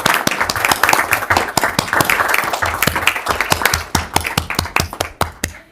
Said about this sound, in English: let's give Ben a huge round of applause